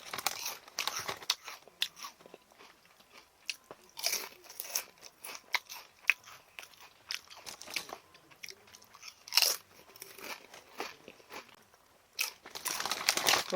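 Swing Chips potato chips crunch in a series of close, sharp bites followed by chewing, with occasional crinkling of the bag, while eating outdoors in a rainy forest campsite; moderately quiet and irregular.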